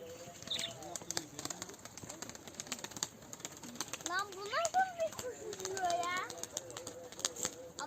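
Pigeons coo and flutter outdoors in Ankara amid scattered chirps, while people talk nearby over a steady background hum.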